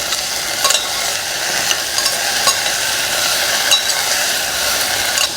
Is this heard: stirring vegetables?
yes